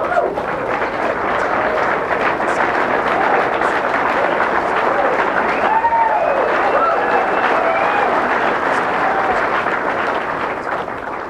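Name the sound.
crowd applauding pool shots at a billiards match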